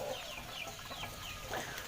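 Chickens kept by a Hmong household cluck and call softly in short bursts over a steady outdoor background, fairly faint and with no one talking.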